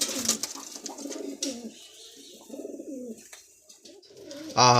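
Madrasi breeding pigeons, an old Kolkata bloodline pair, coo in repeated rolling phrases close by, with short pauses between bursts and a louder rustle or flutter at the very end.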